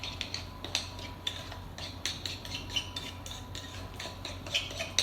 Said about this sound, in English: then I'm gonna give it a stir, okay? Mix that all up in there